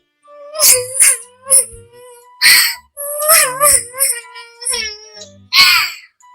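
A high, exaggerated voice wails and sobs in bursts, imitating a small cartoon bird crying, with pauses between the cries.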